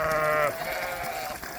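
Katahdin sheep bleat loudly and close by in hot weather, one long wavering call for about half a second followed by fainter overlapping bleats from the flock.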